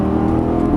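A Lamborghini Gallardo LP550 on a track gives a brief steady engine drone, loud and close, holding a constant tone through the short moment without any break.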